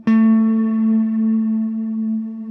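A Strymon Cloudburst reverb pedal with its mix turned fully up, so only the reverb comes through: a single sustained guitar note rings out with a bright attack and a long, steady, shimmering wash that barely fades over a couple of seconds.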